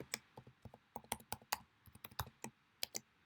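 Keys clack on a computer keyboard as a password is typed, a quiet, close series of distinct clicks in uneven bursts with short pauses between strokes.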